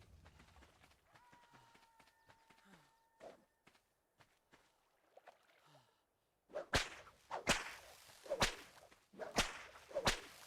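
A whip swinging and breaking bushes in the game Ark, first a run of soft swishes and footsteps, then a string of sharp, loud cracks with rustling impacts, each one distinct.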